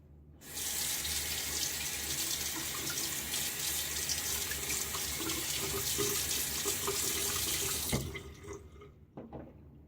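A bathroom faucet runs full and steady for about eight seconds as a face is rinsed after a shave with a Gillette Fat Boy razor, loud and close, then cuts off into a few drips.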